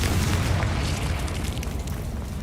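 A Confringo fire spell bursts in Hogwarts Legacy, a dense, loud, rumbling blast with crackling debris that fills the whole span with sustained low-heavy roar and no pause.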